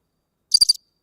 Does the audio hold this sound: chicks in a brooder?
no